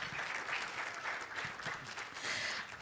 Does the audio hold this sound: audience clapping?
yes